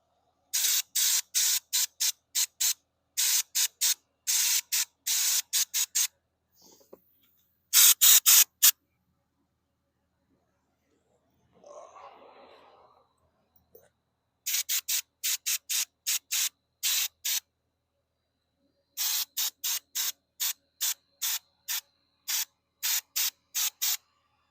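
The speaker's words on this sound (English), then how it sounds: "we'll take the pressure washer there and kind of wash it off the edge there a little bit" A pressure washer sprays off coating on a custom-built flag pole in rapid series of short, sharp hissing bursts, grouped into several runs separated by quiet gaps and brief handling noise.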